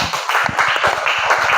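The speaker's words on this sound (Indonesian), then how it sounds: "Berikan tepuk tangan." A classroom of students applauding together, a dense run of close, fairly loud hand claps that holds steady through the short stretch with no voices.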